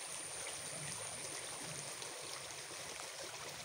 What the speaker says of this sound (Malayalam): ഞങ്ങളുടെ വളപ്പിനോട് ചേർന്ന് താഴെ ഈടോട് ചേർന്ന് ഒഴുകുന്ന തോടാണത്.